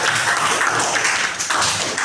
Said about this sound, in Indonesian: Tepuk tangan buat Leon.